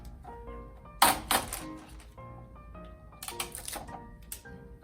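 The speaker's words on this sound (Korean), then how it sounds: "여기에 테이프를 붙여줄게요" Tape pulled and pressed onto a folded paper craft: two bursts of sharp crackling rips with soft taps between, close and fairly quiet, over a faint background hum.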